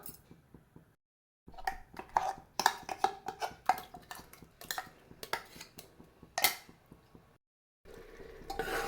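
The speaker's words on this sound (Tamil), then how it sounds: "சேர்த்து இந்த மசாலா கொஞ்ச நேரம் வதக்கி எடுத்துக்கலாம்" Ground masala, made with small onions, going into hot ghee and oil for a vegetable biryani, with clattering pan and spoon clinks and stirring scrapes in irregular bursts and short gaps.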